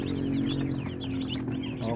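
Crowd of one-day-old broiler chicks in a cardboard-floored brooder, a steady close chorus of high peeping chirps, with faint talk underneath.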